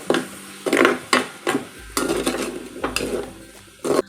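Frozen peas sautéed in hot oil, with a utensil knocking and scraping against the pan in quick strokes over a faint sizzle, close and loud with no talk.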